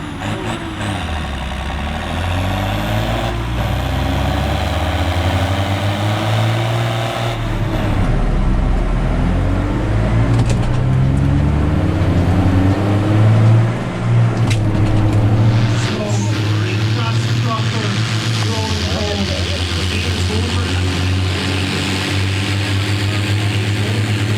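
At a tractor-pull event, a pulling tractor's engine roars loudly as the clutch is popped, its pitch climbing and surging in long revving waves before settling into a heavy rumble, with voices faintly audible.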